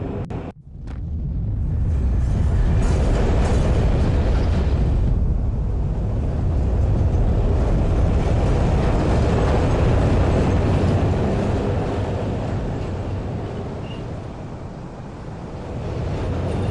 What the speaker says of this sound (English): It's just basically a train ride to the end